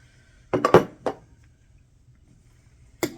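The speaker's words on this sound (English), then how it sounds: "I'll chop it up with a spoon here so he can get after it." A spoon chops breakfast bake with a biscuit in a bowl, giving a quick cluster of close clinks and knocks, then a lone knock after a short pause.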